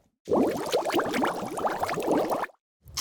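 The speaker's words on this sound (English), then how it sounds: "grab like a snorkel and just blew bubbles in some water" A dense, warbling stream of bubbles blown through a snorkel into water churns steadily for about two seconds, then cuts off abruptly, sounding processed and filtered.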